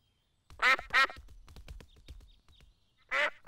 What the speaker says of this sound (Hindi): बतखों को और खाना चाहिए